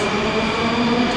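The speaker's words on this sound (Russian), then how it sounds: "Станция метро Киевская." Moscow metro train at Kiyevskaya station on the Filyovskaya line: a steady, loud rumble of rolling carriages with a constant low hum and a faint high whine running throughout.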